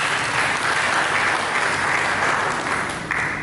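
A church congregation claps together during a worship service, a steady, full burst of applause from many hands that lasts a few seconds before starting to fade.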